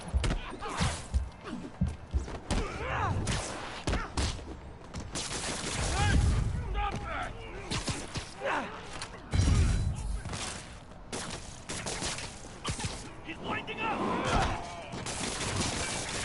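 Enemies fire guns repeatedly in the Spider-Man PS4 video game, with scattered bursts of gunfire, thuds and scuffling during a street fight, under frequent talking throughout.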